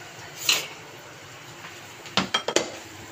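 A lid goes onto a cooking pot of chicken tinola with a metallic clank, followed by a few quick clinks and knocks of cookware, close by and without speech.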